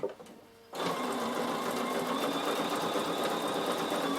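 A Bernina sewing machine stitching soft-threaded fabric at a slow steady pace starts up after a brief pause, then holds an even mechanical whirr with a fine rapid needle rhythm, close and alone.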